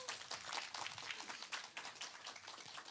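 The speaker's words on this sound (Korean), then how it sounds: "박수 한 번만 더 부탁드리겠습니다." An audience claps and applauds at a traditional Korean music concert featuring the daegeum flute, producing a dense, fairly faint patter of many hands that continues throughout the few seconds.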